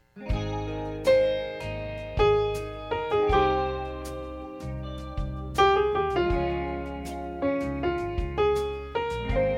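Solo piano soloing over a song, a steady low chord underneath while the right hand ripples through arpeggios and neighbor-tone stepping figures, several notes per beat.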